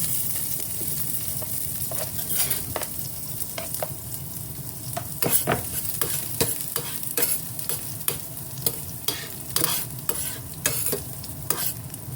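Garlic sizzling and frying in a pan for Filipino tinoshoang bangus, stirred with steady scraping utensil strokes and intermittent sharp clicks against the pan, close and moderately loud with no talking.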